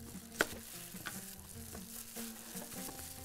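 Chunks of potato and vegetables sizzle and fry in a pan for a Bahraini dish, with a steady low crackle broken by the scrape and clatter of stirring, heard up close and alone.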